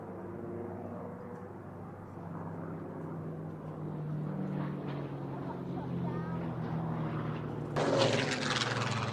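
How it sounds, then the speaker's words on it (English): A Merlin-engined propeller plane drones with a steady low rumble that slowly grows louder overhead, and a burst of noise comes near the end. "Those lovely Merlin-powered aeroplanes up."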